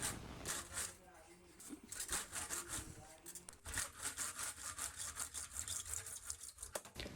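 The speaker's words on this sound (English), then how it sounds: "Now it's time to cut the PVC." A length of PVC pipe is sawn by hand in quick, rhythmic back-and-forth rasping strokes, close and fairly loud, with a short pause partway through.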